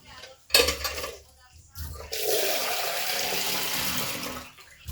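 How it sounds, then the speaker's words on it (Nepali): Water is poured into a pan of matar paneer, a clatter of the pan followed by a steady splashing pour lasting a couple of seconds, close and fairly loud. "अब यसमा चाहिँ पानी हाल्ने।"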